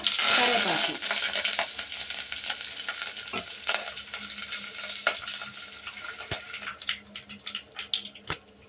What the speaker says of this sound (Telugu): అవన్నీ కూడా చిటపట్లాడినాక